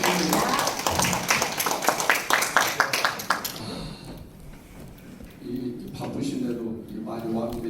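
Audience clapping welcomes a pansori performer at a forum performance in a small conference room, brisk and close for about three seconds, then fading into a quieter stretch with a voice speaking over room sound.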